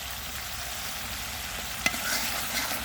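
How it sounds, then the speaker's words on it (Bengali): Spice paste and onions stir-frying in oil for an egg dish, with a steady close sizzle, a single sharp clink of the spatula against the pan, and a gentle scraping stir. "তো মশলাগুলো একদম সুন্দর করে কষায় নিচ্ছি, উপর থেকে তেল ছেড়ে গেছে।"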